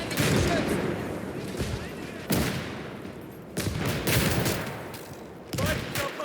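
Machine gun fire in the WWII strategy game Call to Arms: Gates of Hell, a continuous rattling fusillade with several heavier bursts cutting through, dense and loud throughout.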